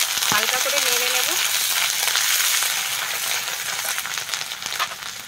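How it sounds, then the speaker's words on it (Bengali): Spoonful of ginger paste with a little turmeric powder frying and being stirred in a pan for a village-style drumstick and prawn curry; a loud, steady sizzle runs throughout with barely any voice. "আমি এখানে এক চামচ আদা বাটা দিয়ে দিচ্ছি। আদাটা যাতে না ফাটে তার জন্য আমি অল্প হলুদ গুঁড়ো দিয়ে দেব।"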